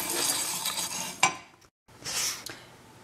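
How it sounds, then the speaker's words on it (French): Whole spices stirred and toasted in a dry frying pan, giving a close scraping and rustling with a sharp clink near the middle, a brief gap, then more stirring. "il faut les mettre dans la poêle et les tourner jusqu'à ce qu'il y ait un arôme qui se dégage"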